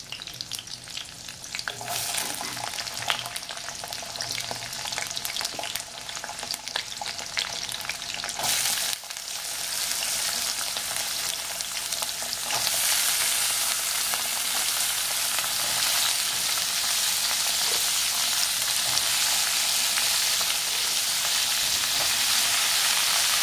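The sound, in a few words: pumpkin frying with green chillies and nigella seeds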